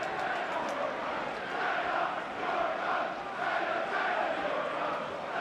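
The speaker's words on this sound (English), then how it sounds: "Apologies if you've heard bad language from the crowd there." A football crowd at a Luton Town v Manchester City FA Cup fifth-round match chants with bad language, making a dense, steady roar of many voices that swells and fades in waves at a distance.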